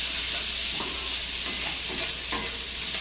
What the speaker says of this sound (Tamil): வெங்காயம், பச்சை மிளகாய் போட்டு வதக்கி விட்டுறேன்.